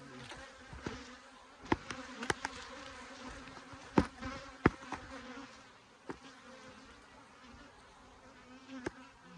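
Honey bees buzzing around a drought-stressed hive during a fall honey flow with robbing, a steady dense hum broken by sharp close fly-bys and knocks, with no talk.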